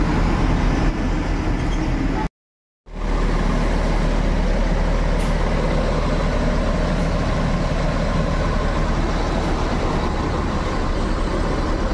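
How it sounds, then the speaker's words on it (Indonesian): A Sembodo bus pulls out of Kampung Rambutan terminal with a loud, steady engine drone that runs continuously, broken once by a short silent gap near the start. "Diberangkatkan bus Sembodo yang kedua."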